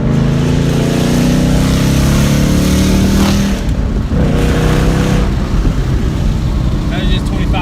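A 2017 Ford Mustang GT V8 with an Armytrix cat-back exhaust pulls hard under acceleration, a loud, steady engine roar climbing in pitch before easing off, heard from on board with voices over it.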